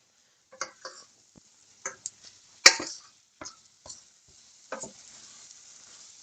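Choux pastry panade being stirred and dried in a saucepan, giving a series of short scraping and tapping strokes with one sharper knock, heard close up with no talking.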